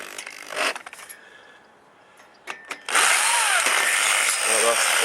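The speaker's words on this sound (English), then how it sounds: "With metal, you want to drill metal slowly." A power drill slowly boring through steel whirs steadily for a couple of seconds after brief speech, a loud continuous grinding whine that holds to the end.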